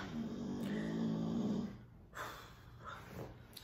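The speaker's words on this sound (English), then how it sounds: "I'm sorry for Loki snoring so loud" Loki snores loudly nearby, one long rumbling inhale followed by softer snorting breaths in a quiet room.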